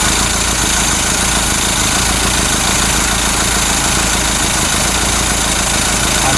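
A Ford Capri MKI engine runs on its raised choke idle, a loud, steady, close rumble that never changes and has no talking over it.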